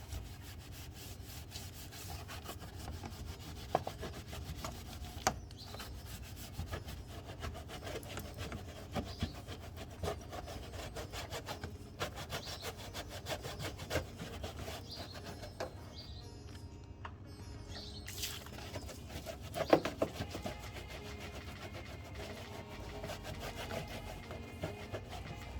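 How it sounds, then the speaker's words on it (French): A brush scrubs the inside of a car's wheel arch, an Audi RS3 being prepared for polishing, with repeated rough rubbing strokes in an uneven rhythm, close and steady, with occasional sharper knocks. "on va venir frotter tout simplement notre passage de roue"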